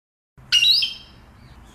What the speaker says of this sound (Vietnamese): con vẹt.